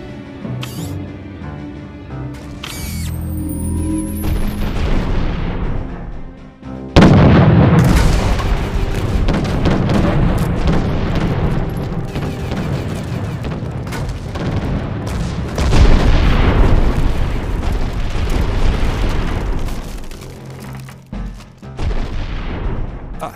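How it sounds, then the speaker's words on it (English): Ship cannons firing in an animated space battle against pirate vessels, heavy repeated booms and blasts with rumbling mechanical noise, loud and dense with several bursts in a row. "All gunners, prepare to engage pirate vessels!"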